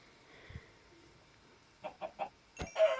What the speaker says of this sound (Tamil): இந்த கோழி அடிச்சிட்டு கோழி சும்மா தான் அடித்தேன்.